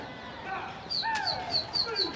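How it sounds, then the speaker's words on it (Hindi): Pigeons take off from an open rooftop loft in a flock, with chirping calls and a few sharp cries rising over steady outdoor background noise, fairly close and moderately loud. "भाग रहे हैं कबूतर।"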